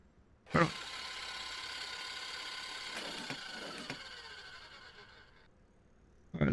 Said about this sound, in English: Mix using whisk attachment.